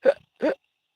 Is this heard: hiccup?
yes